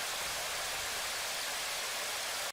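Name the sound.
synthesized rain made from hard-clipped noise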